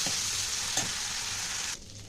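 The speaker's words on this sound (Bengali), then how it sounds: "চিংড়ি মাছ ভাজা হয়ে এসছে, খুব বেশি ভাজা যাবে না" Prawns sizzle in hot oil in a pan, a bright steady crackling hiss with one short stirring scrape partway through before the sizzle drops away sharply near the end.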